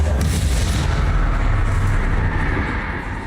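A heavy, rumbling blast from the Confringo fire spell in Hogwarts Legacy, set near a closed mine, opening loud and broad then slowly fading over a few seconds with no voices.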